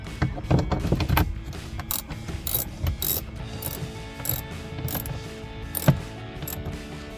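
A ratchet tightens 7mm bolts on interior trim of a 2015–2020 Ford F-150, giving close, loud bursts of rapid clicking with pauses and handling noises in between, and no one speaking.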